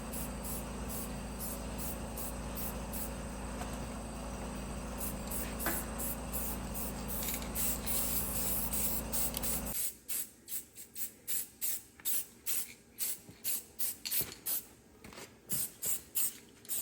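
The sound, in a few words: spray painting tractor sump with black paint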